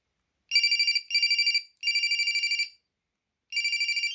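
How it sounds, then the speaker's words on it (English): A 1999 Samsung SGH-2200 mobile phone plays a ringtone melody of rapid, bright electronic beeps in four bursts separated by short gaps and a longer pause, clear and alone. "Right, let's try the ringtone melodies."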